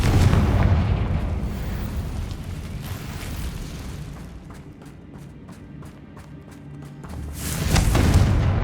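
Confringo spell blasts in the video game Hogwarts Legacy: a loud, rumbling explosion that fades slowly, then a run of sharp pops and crackles, and finally a heavy boom at the end.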